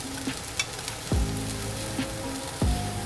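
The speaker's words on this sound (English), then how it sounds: "make sure there's an even coating of just a nice sear on the onions" Onions searing in a pan while being stirred vigorously, a steady sizzle with a few scraping stirs and knocks, moderately close, no talking.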